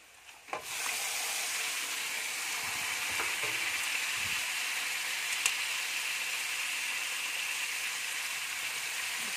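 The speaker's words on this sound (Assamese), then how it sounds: "এতিয়া মই মাংসখিনি দি দিম ইয়াতে।" Chicken pieces frying in a pan with turmeric, a steady broadband sizzle that starts abruptly after a quiet moment as the meat goes in and then holds loud and even, with a few faint clinks.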